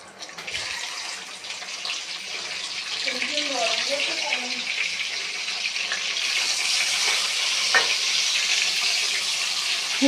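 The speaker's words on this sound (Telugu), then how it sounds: "గుడ్లు వేస్తున్నాను" Eggs frying in hot oil in a home kitchen pan, a steady broad hiss and crackle that builds slightly and holds fairly loud throughout, with a few faint voice fragments beneath.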